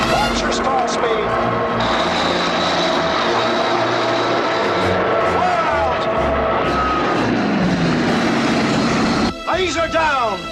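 An airliner in the film Airplane! slams down on a runway with continuous loud rumbling, scraping and screeching, while voices shout over the din and a sharp cut near the end.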